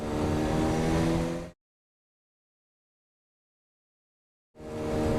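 A 1993 Kawasaki Zephyr 550 motorcycle engine, a close steady idle-like hum with strong harmonics, heard in two short bursts separated by about three seconds of silence.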